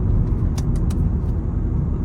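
A Škoda Fabia 1.0 TSI 81 kW engine rumbles low and steady from inside the cabin while shifting gears, with a few faint mechanical clicks over the drone.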